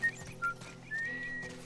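A character whistles in The Last of Us: two short whistled notes, then one longer, steady whistle carried over quiet game background noise.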